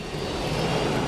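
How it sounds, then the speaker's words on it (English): A Jumbo plane's jet engine in the mobile game Airport City roars as a steady, loud, broadband rumble, holding evenly for about a second. "But the Jumbo plane sounds like this."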